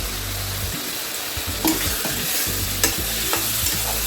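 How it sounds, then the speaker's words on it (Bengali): Onion and garlic fry in a pan for masoor dal, giving a steady loud sizzle with the scrape and clatter of a spoon stirring at intervals and no voices. "এগুলোকে আমি একটু ভালো করে ভেজে নেব।"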